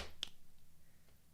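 A single crisp finger snap, close and fairly quiet, followed by a faint second tick in otherwise near-silent surroundings.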